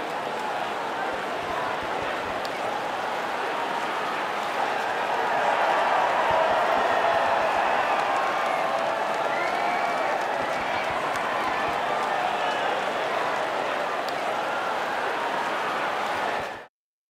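Crowd noise at the podium after a Bahrain Grand Prix in F1 24, with Valtteri Bottas's Sauber team on top: a steady, broad roar of cheering and applause that swells slightly midway and holds evenly for the whole stretch before cutting off.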